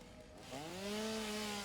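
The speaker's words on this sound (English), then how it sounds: "Alright, so now I do need the chainsaw" A chainsaw in the Satisfactory video game starts up and holds a rising, steady motor whine as it clears flora, heard close and alone.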